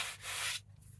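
A hand rubs across the grain of a painting canvas, a broad dry scrubbing hiss that holds steady for about half a second and then drops to a fainter rustle, close and alone.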